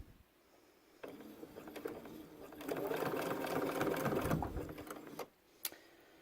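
A sewing machine stitches a zipper onto a backpack: a close, steady mechanical whir that starts abruptly, runs for a few seconds and stops, followed by a short knock.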